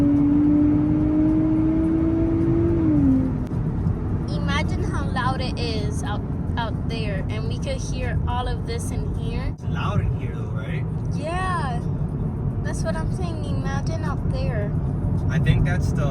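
A 2023 Nissan Z being driven on the street, with a steady engine drone and some road and cabin noise heard from inside the car, partly piped in through the speakers, while people talk over it throughout.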